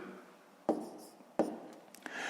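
Numbers being written by hand for a fifth-grade maths exercise: two sharp pen taps on paper followed by brief scratchy strokes, close and quiet, with no voices.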